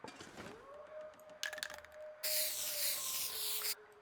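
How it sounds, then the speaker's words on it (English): Spray paint hisses from a can in the survival game The Long Dark, in a short burst and then a longer sustained spray, close and fairly loud, without talk. "Let's use the spray paint."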